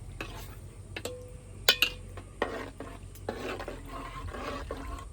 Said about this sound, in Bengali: দুধটা এবারে আমি গুলে নেব।